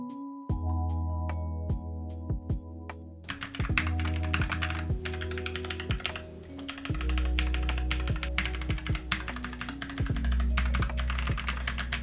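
Typing on a NuPhy Air96 low-profile keyboard with brown switches, steady close clacking keystrokes over a constant tonal hum from other audio playing in the background.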